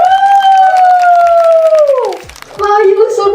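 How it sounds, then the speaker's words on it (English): An audience at a teen birthday party applauds and cheers for the birthday girl, clapping rattling beneath a loud sustained voice, which drops off and then gives way to more cheering and voices. "Give a round of applause for today's queen"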